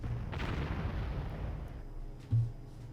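Artillery fire in the strategy game Panzer Corps, a rumbling low blast early on followed by a sharper thump near the end, moderately quiet.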